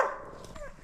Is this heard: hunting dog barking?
yes